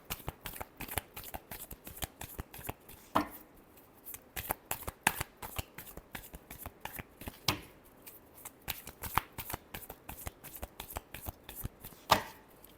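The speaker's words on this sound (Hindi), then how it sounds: "Last shuffle." A deck of tarot cards is shuffled close up in a quiet room, with rapid, repeated riffling and slapping bursts that keep an irregular rhythm and include a few sharper snaps.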